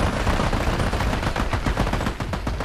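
Rapid automatic gunfire in the shooter Army of Two, a dense, loud, continuous rattle of machine-gun bursts with no talk.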